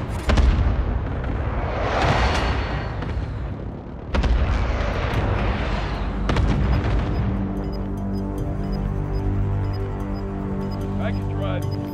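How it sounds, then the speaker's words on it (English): Cluster airstrike explosions in the video game Call of Duty: Modern Warfare: a heavy boom opens, more blasts land around four and six seconds, then rumbling debris fades under humming machinery. "Cluster strike away."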